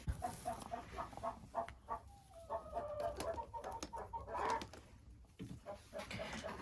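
Leghorn hens in a henhouse cluck softly and intermittently at a distance, with low, faint murmuring calls and some handling noise during egg collection.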